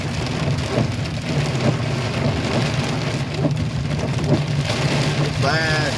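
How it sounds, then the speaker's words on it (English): Heavy rain from a night thunderstorm drums steadily on a new truck stopped at a traffic light, a dense continuous roar with a low engine hum beneath and brief tonal squeaks near the end. "Listen to that rain."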